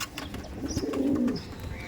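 A soft, low coo from a Punjabi Malabari pigeon rolls out close by, a single drawn-out call with faint rustling around it.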